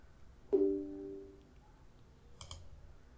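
A single computer mouse click on an install button, close and crisp, followed by a faint pair of clicks a couple of seconds later in a quiet room.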